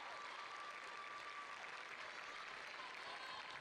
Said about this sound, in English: Here's a round of applause coming from the home faithful.